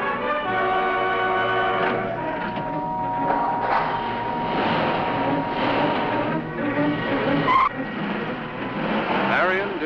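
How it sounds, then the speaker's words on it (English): Screeching tires and a roaring car engine from a 1956 television drama build to a long skid, loud and sustained, with a sharp burst near the end suggesting the crash, set against dramatic background music. "When her car crashed, she was killed instantly."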